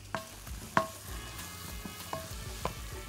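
Bell pepper and hot pepper fry in ghee with a quiet, steady sizzle, punctuated by a few sharp utensil clicks and stirring scrapes close by.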